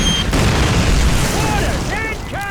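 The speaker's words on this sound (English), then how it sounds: "Mortars! Incoming!" Mortar rounds explode in a World War II street battle in Call of Duty, a dense continuous rumble of blasts with shouting voices and whistling tones layered over the din.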